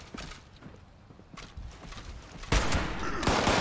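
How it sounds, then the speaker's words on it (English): Tactical hunting rifle gunfire in the Fallout 76 video game, heard as a loud burst of shots near the end after quieter clicks and thuds. "Wonder how much damage my tactical hunting rifle will do now."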